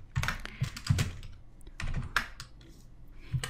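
Keystrokes on a computer keyboard as JavaScript code is typed, coming in quick irregular bursts of clicks and thunks with short pauses, close and fairly loud, with no talking.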